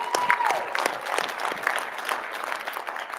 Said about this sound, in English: let's give another round of applause for all of the nominees and winners